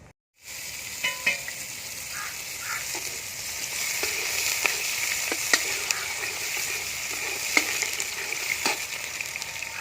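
Carrots frying in a pan as the first step of fried rice, a close, steady sizzle starting abruptly and continuing with occasional sharp clicks of a spatula against the pan, no speech.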